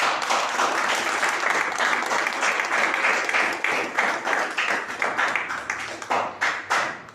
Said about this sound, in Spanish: Dele un aplauso a nuestro Dios